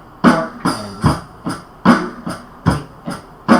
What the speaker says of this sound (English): So what we did, we just made a simple drum beat.